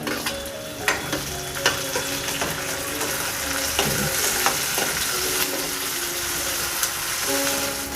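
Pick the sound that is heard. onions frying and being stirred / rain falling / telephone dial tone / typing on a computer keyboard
onions frying and being stirred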